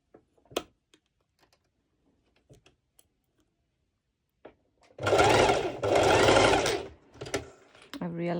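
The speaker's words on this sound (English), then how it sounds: "So now I'm going ahead on my serger" A serger overlocks bikini bottom fabric in two loud, steady bursts of stitching, preceded by faint clicks and handling taps and followed by shorter stops and starts.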